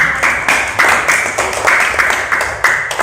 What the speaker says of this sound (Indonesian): Tepuk tangan ya untuk semua.